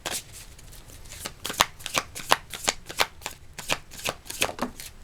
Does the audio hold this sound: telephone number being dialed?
no